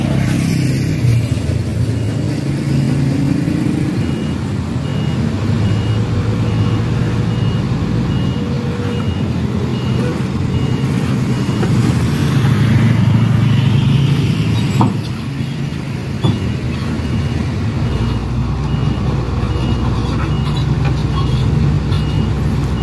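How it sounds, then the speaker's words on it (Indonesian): Trucks working at a toll road construction site under a bridge, with a steady engine drone and repeated reversing beeps, some revving, loud and continuous in the open air. "Oke, satu persatu truk mulai menuju ya"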